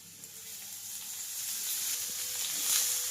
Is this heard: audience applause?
no